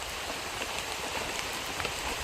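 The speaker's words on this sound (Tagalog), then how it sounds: "umuulan na" Steady rain falls in an outdoor hunting setting, a dense, even hiss of drops on surfaces that holds without pause from start to end.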